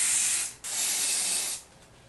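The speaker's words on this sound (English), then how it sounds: "take my spray just to make sure, just to ensure that it is laid as flat as possible" Two short bursts of aerosol hair spray misted onto a glueless HD lace wig, close and crisp hissing, the first brief and the second longer before cutting off.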